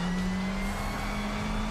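A GT3 race car engine in the RaceRoom racing game, on the Nürburgring, drones at a steady high pitch, loud and continuous without a break, holding a constant note.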